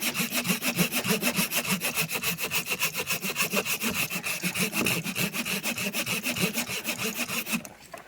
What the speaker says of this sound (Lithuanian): pirmą kartą panaudosim pjūklą